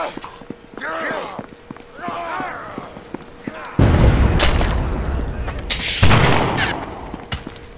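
Deep booming blasts of cannon fire erupt amid sounds and footsteps in the video game Chivalry: Deadliest Warrior, with a voice talking briefly before the loud shots begin.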